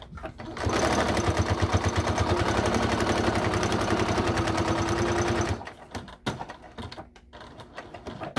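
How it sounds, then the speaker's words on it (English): Sewing machine stitching across the bottom of a card slot on a cork billfold wallet, a fast, steady mechanical clatter running close and loud for about five seconds, then stopping, followed by faint handling noises. "I'm going to sew right across the bottom, 1/8 of an inch"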